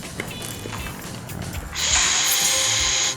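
A Shark vacuum cleaner's folding joint gives a few scattered ratcheting clicks, then a steady close whirring rattle as the mechanism moves, with no voices.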